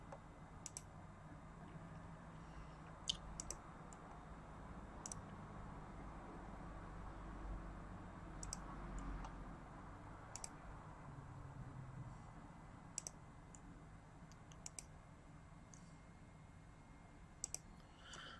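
Computer mouse buttons clicking while a blog website is set up, sharp isolated clicks scattered every few seconds, some in quick pairs, faint over a steady low background hum.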